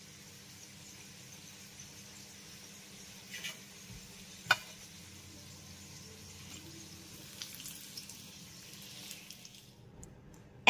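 Snacks fry in hot oil in a home kitchen, giving a soft, steady sizzle with occasional faint pops and clinks close by.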